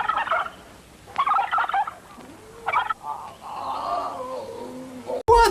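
Turkey gobbling from the turkey-man creature in a film: three quick, loud gobbling bursts, then a lower droning warble and a sudden sharp noise at the very end.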